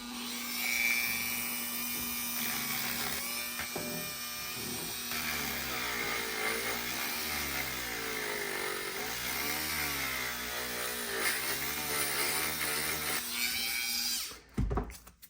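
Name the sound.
Dremel rotary tool cutting a plastic body panel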